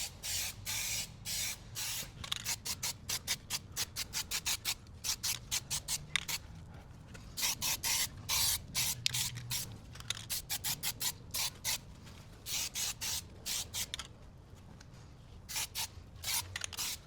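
Spray paint is applied over grease-coated parts in dozens of short, sharp hissing bursts, some quick and clustered and others longer, close by and steady in rhythm, with no speech.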